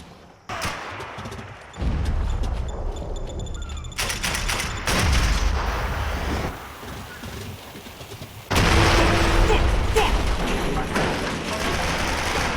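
Gunfire and a grenade blast in Max Payne 3, with sharp shots and heavy booming bursts under dense battle noise, loud and continuous with abrupt surges.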